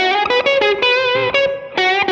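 Electric guitar played through an Electronic Audio Experiments Longsword distortion pedal with its shift switch engaged, giving a short burst of loud, saturated, rhythmically chopped chords.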